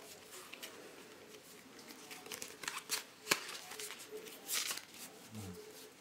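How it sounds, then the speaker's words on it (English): A deck of Bicycle Deco playing cards is handled up close, with soft papery riffling, light card flicks and a sharp snap partway through, quiet and intermittent against a low background. "Let me just find a couple of the cards."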